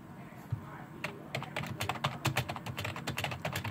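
Typing on a Corsair K55 RGB gaming keyboard, a steady run of close, soft key clicks in quick irregular rhythm, fairly quiet, with no talking.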